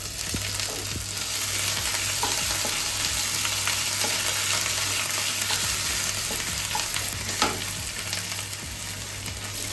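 Ginger paste is stirred into a spice tempering in a pan, producing a loud continuous sizzle close by with repeated scraping strokes of a spoon against the pan throughout.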